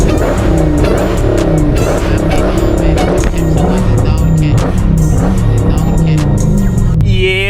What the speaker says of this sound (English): I don't know if y'all can tell, but this car is sliding left.